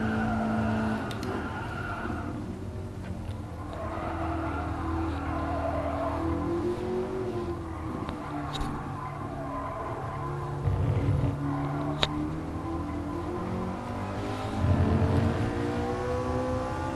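A McLaren MP4-12C from 2010 in GT Sport, its engine droning steadily and rising in pitch as it accelerates out of a corner, with faint tire noise and no talk.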